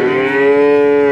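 A cow moos loudly and close at a cattle market in Sleman, Indonesia, one sustained, low, harmonic call.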